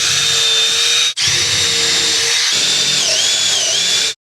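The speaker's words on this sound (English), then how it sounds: "I'm using a bigger drill so I can countersink them right through." A power drill bores countersinks for screw holes in wood on an off-grid composting toilet build, whining steadily at close range with two brief stops and no talk.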